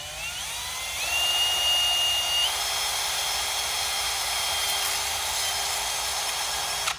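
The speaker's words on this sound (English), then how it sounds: "We're gonna go ahead and drill our 2 holes." A high-pitched electric drill with a 1/8-inch bit whines steadily for several seconds, its pitch rising and dipping a little as it bores rivet holes, then winding down.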